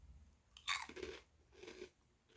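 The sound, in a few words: crunch of biting a chili cheese flavored snack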